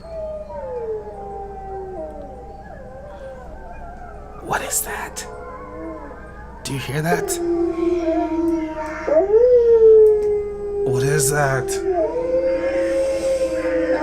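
Wolves howl in the Animal Jam video game, long rising and falling wails layered across most of the stretch, while a person talks over them throughout.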